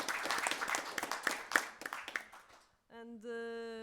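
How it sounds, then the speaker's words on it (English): Audience at a conference session clapping together in a short burst of applause that fades out, followed by a sustained tonal hum. "A big clap for everyone."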